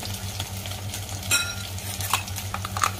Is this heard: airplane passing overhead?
no